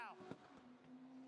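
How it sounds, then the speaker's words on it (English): A car doing a burnout at a Burnanza event lets out one sharp backfire pop over a continuous roaring engine. "Oh, a little bit of a backfire."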